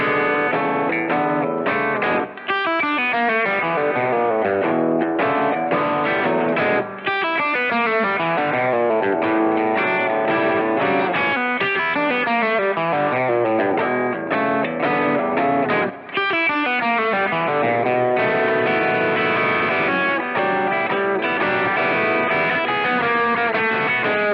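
A distorted electric guitar plays a continuous blues progression with blues-scale runs woven between chords, loud and sustained throughout, with no talking.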